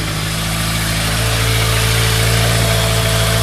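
A Yamaha Thunderace motorcycle engine runs steadily at idle with a rough mechanical hum, close and loud throughout with no pauses.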